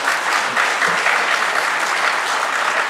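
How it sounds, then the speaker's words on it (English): An audience at the 2015 Schenectady mayoral debate bursts into loud, sustained applause, a dense wash of clapping hands that fills the hall without a break. "I don't mind people clapping and cheering"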